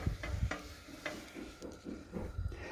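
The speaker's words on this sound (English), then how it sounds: "I just want to show you like how the chile changes color when it's toasted" Dried chiles toast in a pan on a home stovetop. Light scrapes, taps and soft crackles come as the pods are moved and turned, quiet and close.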